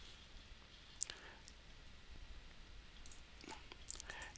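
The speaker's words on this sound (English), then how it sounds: "So I'm going to right click, I'm going to hit copy" A computer mouse gives a few faint, sharp clicks, one near the start and a couple later, against a quiet hissy room background with no clear speech.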